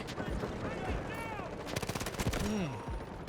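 Gunfire in the shooter game Delta Force, a mid-level clatter of rapid shots with a denser burst near the end, running under game noise and brief voice sounds.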